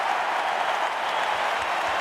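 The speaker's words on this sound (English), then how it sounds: "And the crowd finds some voice here at the Gabba." A large crowd at the Gabba cheers and applauds during an AFL football match between Carlton and Gold Coast, a dense, sustained roar of noise with no single voices standing out.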